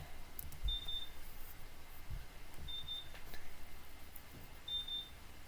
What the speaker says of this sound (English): Yes, we can tell it's beeping